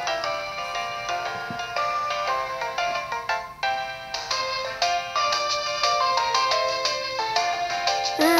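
Save jingle from Pokemon HeartGold plays as a steady stream of bright, tonal electronic chimes and notes, continuous and fairly loud, with no talking.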